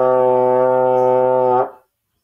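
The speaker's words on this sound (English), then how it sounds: "Next up is the trombone. So this is my plastic one." A low sustained note blown on a plastic trombone, one steady held tone lasting about a second and a half before cutting off, loud and close with no talking.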